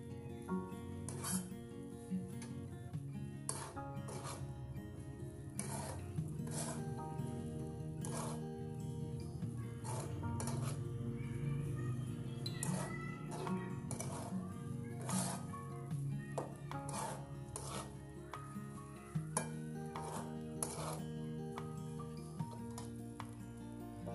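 A spatula scrapes and taps against a pan of shrimp-paste fried rice in irregular strokes over a steady low sizzle, with music playing throughout.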